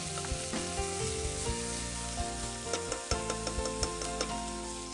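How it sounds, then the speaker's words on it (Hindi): Chopped onions and tomatoes sauté steadily in a hot pan, a close, continuous sizzle with faint crackles and occasional ticks of stirring, no voices. "अब इसे थोड़ी देर और भून लेते हैं।"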